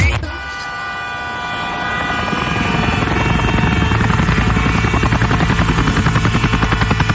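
A loud helicopter with a rapid, thumping rotor chop that grows steadily stronger, as if the aircraft is drawing closer.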